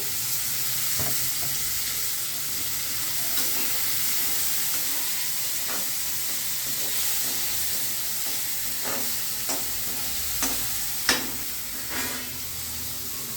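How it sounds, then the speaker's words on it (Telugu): Thin potato slices fry in an oil-filled pan for potato fried rice, giving a steady broadband sizzle with occasional stirring clicks and scrapes from a utensil, loudest near the end. "బంగాళదుంపలు ఇట్లా సన్నగా కోసుకొని వేయాల"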